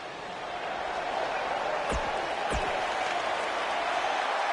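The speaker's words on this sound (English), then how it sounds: "The crowd is buzzing with excitement." A crowd buzzes in a WWE 2K18 video game wrestling arena, a dense, steady roar of cheering and applause that holds at full volume throughout, with a couple of brief whooshes.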